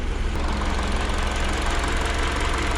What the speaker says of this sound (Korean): 엔진 소리 괜찮습니다